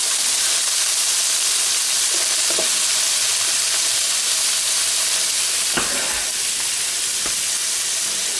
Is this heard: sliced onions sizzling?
yes